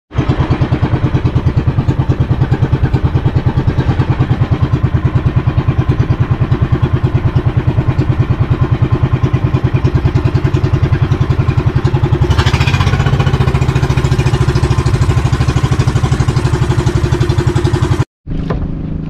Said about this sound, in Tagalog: Pag nakakanta yun, papandar to yung makina.